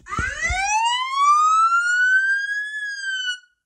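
A single long electronic SOS alarm tone from an IIIF150 Air1 Ultra rugged smartphone rises steadily in pitch, holds, then dips slightly before stopping, loud and piercing from a small speaker.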